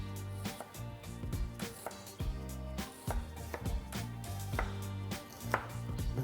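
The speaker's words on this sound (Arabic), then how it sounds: "البصل بدنا نجرب نقصه قد ما فينا رفيع" A knife slices an onion thinly on a cutting board for an iceberg lettuce salad, giving a steady run of close, crisp chopping strikes over faint background music.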